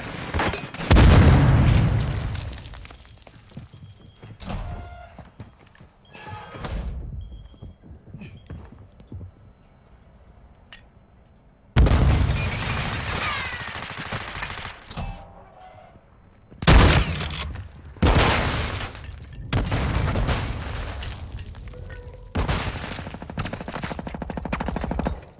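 Gunfire and explosions in Call of Duty: DMZ come as sharp, loud bursts and booming blasts, with rattling volleys in several separate clusters, while softer battle noise and faint voices fill the gaps.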